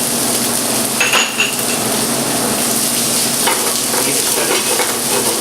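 Chopped ginger goes into hot oil with garlic for okra masala and is stirred in a frying pan, a loud continuous sizzle with a few metal spoon scrapes and clinks close by.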